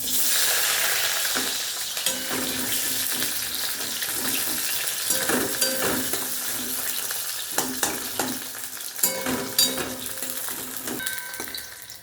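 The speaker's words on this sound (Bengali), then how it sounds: "এরপরে আমি একটা গোটা পেঁয়াজ যে কেটে রেখেছি এটা ভেজে নেব।" Sliced whole onion frying in a pan after cauliflower and potatoes were fried in it sizzles steadily and close. Occasional clinks and scrapes of stirring sound throughout, with no talking.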